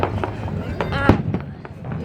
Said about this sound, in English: Don't be so busy filming that you missed the firework spectacular.